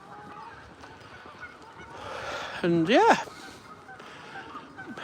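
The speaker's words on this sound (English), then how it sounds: "Someone's upset the birds." Geese honking in a town park on a New Year's Day sunrise walk in Northampton: a few loud, close honks rise out of steady outdoor ambience, with someone talking briefly beforehand.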